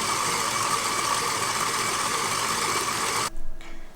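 An electric hand mixer whisks cream into butter at a raised speed, giving a steady motor whir with a busy churning texture that runs alone for about three seconds and then cuts off abruptly, leaving a quieter tail.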